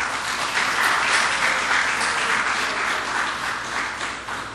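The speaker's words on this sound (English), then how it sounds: "this is where you clap" Steady audience applause fills a public consultation meeting on the Skinner Park redevelopment, a dense, even wash of many hands clapping that holds strong throughout and eases slightly near the end.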